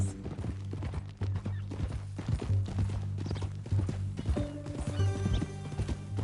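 Rhythmic hooves clip-clop at a steady walking pace in Red Dead Redemption 2, close and clear, over a low droning background hum, with a horse snorting and whinnying.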